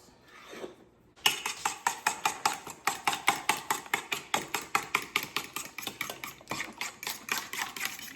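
Fork whisking an egg mixture in a bowl, a fast steady run of sharp metallic clicks against the bowl's sides, close and even, after a brief quiet start.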